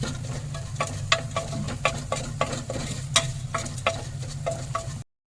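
Pepper and spice powders being stirred in a pan for beef curry: regular scraping strokes of a spoon against the pan, about two per second, over a close, steady low sizzle with no voices.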